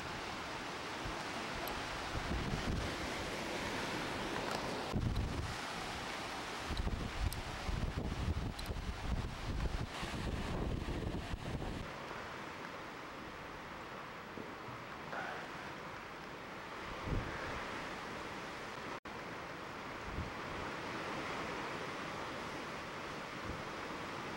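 Surf rolls and washes steadily against the rocky sea cave at Boca do Inferno in Cascais on a calm day, a continuous broadband rush with occasional stronger surges and wind noise on the microphone.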